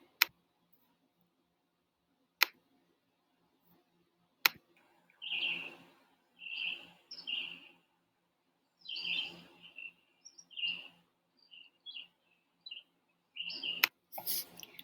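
Small birds chirp and twitter in short bursts with pauses between, fairly close, and a few sharp clicks punctuate the quiet.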